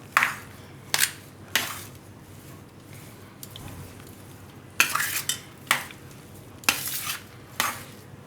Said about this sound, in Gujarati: હવે આ બધું આપણે મિક્સ કરી લેવું આમાં